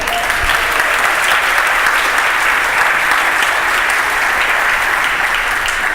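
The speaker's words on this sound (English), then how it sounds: "Please awkwardly clap for the person next to you." Conference audience at a documentation writers' gathering in Portland applauding, a dense, sustained wash of many hands clapping at even volume for the full six seconds with no talking over it.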